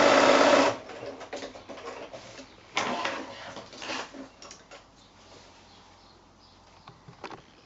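A sewing machine stitches around quilted fat-quarter fabric for a pocket bag, starting with a loud close burst, then running in shorter, quieter bursts with pauses between them.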